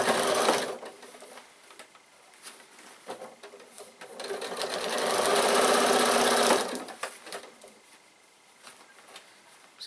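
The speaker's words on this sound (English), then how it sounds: "So we're just going to sew all the way across the top." A sewing machine stitches across the top of a fabric bag, its steady rapid whirring rising and falling in speed over ten seconds, fairly quiet and close.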